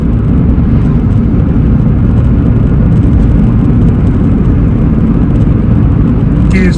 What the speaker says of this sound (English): Must admit, it's very noisy in here. It's only tyre noise